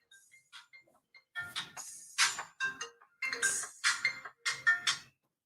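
A phone rings with an electronic ringtone: a few soft short tones at first, then a louder repeating pattern of chiming bursts, clear and close with silence between them.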